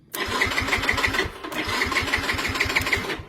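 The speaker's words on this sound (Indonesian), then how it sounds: "udah langsung tater-tater dan motor nggak mau hidup ya" A Yamaha Mio M3 scooter's electric starter cranks in rapid, even pulses, pausing briefly and cranking again without the engine catching; close and fairly loud, no speech.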